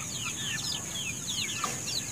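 Chickens being treated for coryza, kept in a homemade coop, give off soft, scattered clucks and chirps at low level, several overlapping calls against faint background noise.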